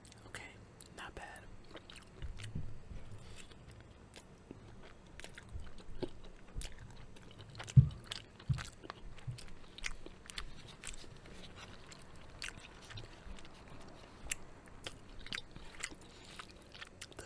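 Thai noodles being eaten close to the mic, with soft slurps, wet chewing and occasional crunchy bites in an irregular rhythm, quiet and intimate, with faint whispery sounds in between.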